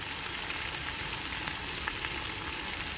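Ginger and garlic frying in oil for a country-chicken natukodi pulusu curry give a loud, steady, unbroken sizzle that crackles throughout, with no voices.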